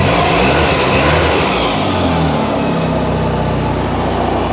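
A 32-year-old Saab 9000 Classic Turbo with a Garrett turbo and about 230,000 km, run after five years in a garage, blips loudly at first, then settles into a steady, even engine hum close to the microphone.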